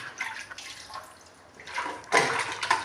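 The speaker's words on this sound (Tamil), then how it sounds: "தண்ணி ஊற்றினா தான் கழுவ முடியும்." Water poured out in several splashy bursts for washing, the last gush louder and longer, with drips and trickles between pours close by.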